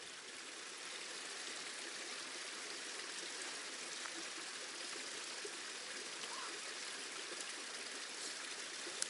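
Steady broadband rush of a flowing stream on a winter hike in Scotland, continuous and fairly close, with even loudness throughout and no talk over it.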